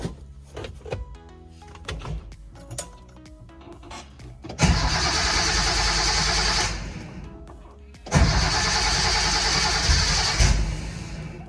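A Nissan Fairlady Z S30 cranks and fires up, two loud bursts of starting and revving after a stretch of quieter mechanical clicks and knocks, close by with no talk over it.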